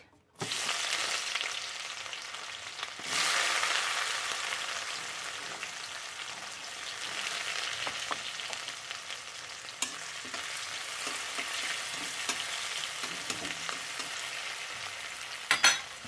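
Onion drops into hot oil tempered with cumin seeds, a loud hiss that settles into a continuous crackling fry with soft stirring and a few clinks near the end.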